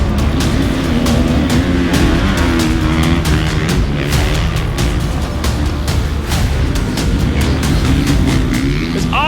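Zach Osborne's motocross bike racing toward the final turn at the 2020 Loretta Lynn's national, a loud, continuous engine roar with rapid throttle pulses and crowd-like wash, no voices.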